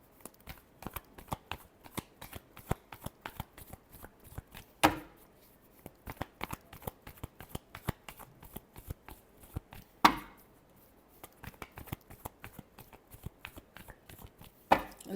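Tarot cards being shuffled close by, a quiet, rapid run of rhythmic riffles and taps with a couple of louder slaps along the way.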